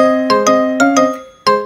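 A cheerful KakaoTalk default video call ringtone melody, six or so bell-like notes in a bouncy rhythm, the phrase repeating, clean and upfront with no voices.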